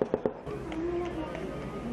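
Small arms fire during a ceasefire violation in Poonch, three quick sharp cracks at the start followed by someone speaking over a low rumbling background.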